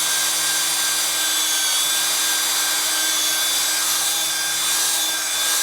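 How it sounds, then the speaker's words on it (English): A power drill runs steadily, reaming the puncture hole in a motorcycle tyre with a large 7 to 8 mm bit, a constant close whirring grind with no pauses or speech. "And work the drill around it."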